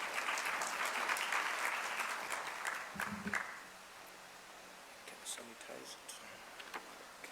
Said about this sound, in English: Give a round of applause for Bongani Mazibuko.